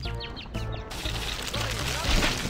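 Squawking bird cries and clucks from American McGee's Grimm, Jack and the Beanstalk episode, repeated harsh calls with thumping hits, loud and close, over busy game music.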